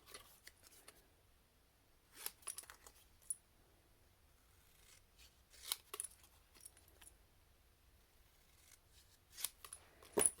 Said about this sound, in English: And then just trim that down into a little strip.